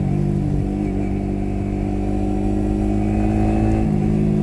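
A Yamaha R15 motorcycle with an electronic throttle idles close by and rises into a short steady rev, its engine hum loud and continuous for the whole moment.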